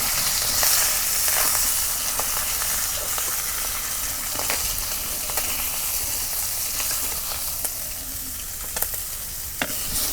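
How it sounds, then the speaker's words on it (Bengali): Pieces of fish fry in a pan with a steady, loud hissing sizzle heard up close, broken by a few faint clicks of a utensil, no voices. "এক খোলা মাছ ভাজা হচ্ছে নামিয়ে নেব।"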